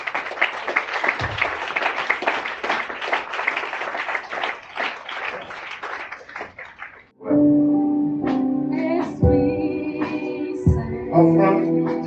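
A Sunday church congregation bursts into dense, loud applause for several seconds, then the clapping gives way to music with sustained tones and a beat.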